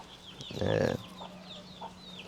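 Chickens at a small backyard coop in a town yard, one louder burst of clucking near the middle and softer scattered clucks around it, fairly close, with faint bird chirps in the background.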